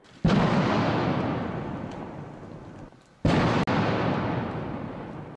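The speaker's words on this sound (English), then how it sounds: "And with this, a 21-gun salute" Two heavy cannon booms from a 21-gun salute at Nelson Mandela's burial ceremony ring out a few seconds apart, each a loud, sharp blast followed by a long, rolling echo that slowly fades outdoors.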